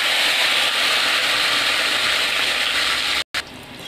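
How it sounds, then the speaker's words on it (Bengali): Boiled potatoes frying in hot oil left over from frying fish, a loud, steady close sizzle that cuts out abruptly near the end. "এবার যে আলুটা সেদ্ধ করে রেখেছিলাম এই তেলে আমি ভেজে নেব।"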